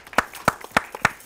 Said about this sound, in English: Let's clap it up.